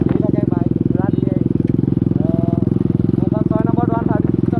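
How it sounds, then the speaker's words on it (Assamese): A Yamaha R15 V3 or RS200 motorcycle being ridden, its engine a loud, steady, close drone throughout, with people talking over it. "মোৰ বাইক নিখিলে চলাইছে"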